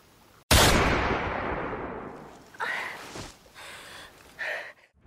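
A single loud gunshot cracks in a film scene, followed by a long ringing decay that fades over a couple of seconds, then faint breathy sounds and short vocal noises.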